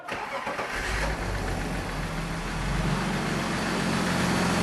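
A BMW car engine cranks briefly, then catches and settles into a steady, low rumbling idle that grows slightly louder; no voices. The service-engine-soon warning is on.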